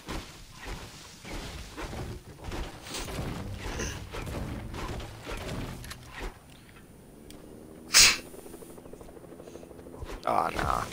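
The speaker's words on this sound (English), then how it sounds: "Why does a helicopter have to roll up on me?" Helicopter flying nearby in a video game, a continuous throbbing rotor drone that stays loud and close for several seconds before a sharp burst, with game sounds around it.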